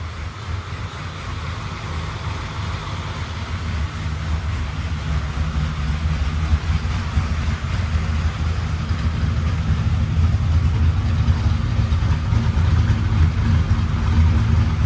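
1996 Chevrolet Impala SS engine idling after a new install and tune, a steady low rumble with a slightly lumpy rhythm, close and fairly loud, holding constant throughout without talking.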